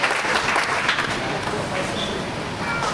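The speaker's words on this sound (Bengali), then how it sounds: "ওনার জন্য একটা হাততালি হোক।" A crowd at a Malitola cottage industry association Eid reunion and new member welcome event applauds a newly admitted member, a dense, fairly loud wash of clapping that holds steady for several seconds and fades slightly at the end.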